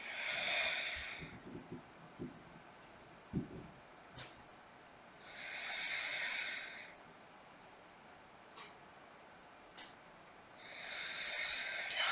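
Slow, deep breathing during a yoga moon salutation, three long airy exhales spaced several seconds apart, close and quiet, with faint rustles and small movement noises between breaths and no talking.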